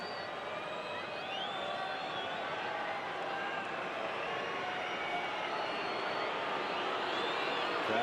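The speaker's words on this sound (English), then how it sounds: "Crowd trying to put him off" Rugby stadium crowd during a Waratahs v Stormers penalty kick, a steady broad roar and jeering from the stands that holds at an even level throughout, with no break.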